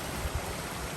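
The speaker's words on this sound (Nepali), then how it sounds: "वाटरफल" A village waterfall on a stream in Syangja, Nepal, makes a soft, continuous rushing hiss of falling water. It is faint and steady, with no voices.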